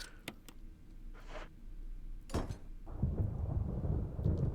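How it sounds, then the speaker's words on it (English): Thunder rolls in Resident Evil, a low rumble that builds and lingers in the background after a few faint clinks, with no one speaking over it. "Was the thunder necessary, though?"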